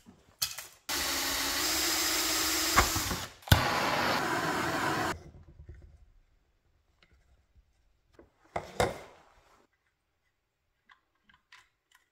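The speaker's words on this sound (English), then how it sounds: "I think I'm going to drill a hole here." A power drill runs in a loud steady burst for a few seconds, pauses briefly, then whirs again before stopping, followed by quiet handling noises.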